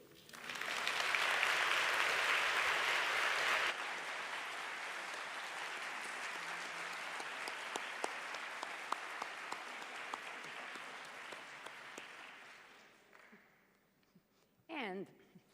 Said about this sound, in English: to whom now I say, please clap